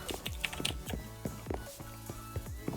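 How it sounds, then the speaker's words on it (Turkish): Typing on a computer keyboard, a brisk run of individual key clicks at an uneven rhythm, faint and close, with no talk over it. "Bu TeamSpeak'te klavye sesim gelmiyor değil mi?"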